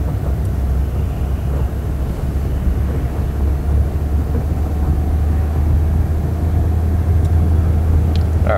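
A 1996 Toyota Corolla 1.6 AE101 pulling in second gear, its engine a loud, steady low rumble with road noise heard from inside the cabin, building slightly toward the end.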